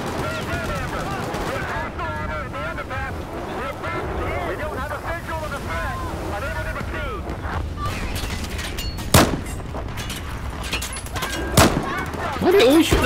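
Battlefield 4 campaign gunfire, several sharp shots cracking out in the second half under ongoing talk, with wind and water noise behind, close and punchy.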